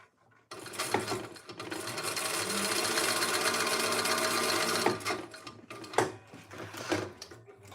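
A sewing machine runs in one long steady burst of stitching two rows, its rapid mechanical whir lasting several seconds before a few short clicks and handling noises.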